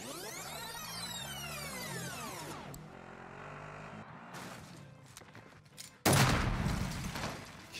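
Kalashnikov rifle fire in a battle royale video game: rapid bursts of automatic fire crackle at moderate level, then a sudden loud volley erupts near the end.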